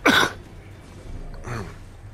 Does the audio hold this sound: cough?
yes